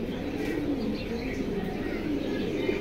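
Caged pigeons coo in a continuous low murmur at close range, with scattered chirps over a steady background.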